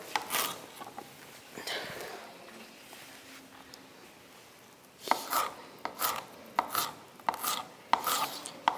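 A knife slices a green pepper into thin strips on a board, a few scattered cuts early on, then a quicker run of sharp, close chopping taps near the end.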